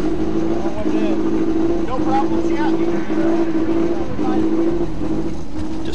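An off-road race vehicle at the Terrible's Herbst 250 desert race labours with a poorly revving engine, a steady droning hum with rough mechanical rattling and jolts, loud and close throughout.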